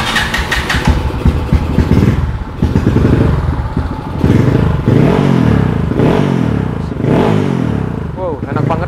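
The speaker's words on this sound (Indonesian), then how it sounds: "sekarang kita coba dengar ya bunyi si motor balap ini kayak apa" Kawasaki KLX 200 modified racing motorcycle engine, started without a conventional key, running loud and close with repeated revving bursts, accompanied by people talking.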